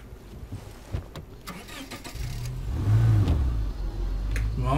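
A car engine in State of Decay 2 cranks with a few clicks, then catches and settles into a low, rising rumble that grows louder toward the end, with no talking over it.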